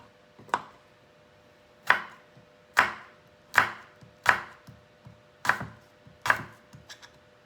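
Beans being cut with a kitchen knife, seven crisp blade strikes against a cutting board at a slow, uneven pace, each a distinct close knock followed by silence, with no voices.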